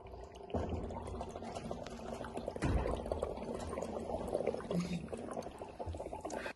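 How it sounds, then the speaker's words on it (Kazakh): Air blown through a straw into water makes a continuous bubbling, gurgling churn, with a sharper splashy burst partway through, close and moderately loud. "Суды түтікшемен үрлеп көрейікші"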